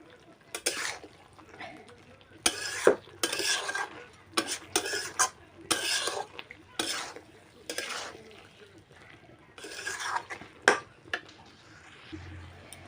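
Pumpkin and jackfruit curry is stirred in a pan, a series of scraping, clattering spoon strokes against the metal in irregular bursts over a faint sizzle, close and clear, with no talk.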